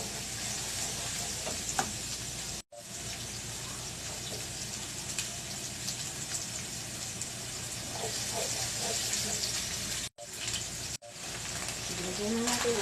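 Shrimp paste, bagoong alamang, sizzles as it is sautéed in a pan, giving a steady loud frying hiss that carries on with only brief breaks and faint background sounds.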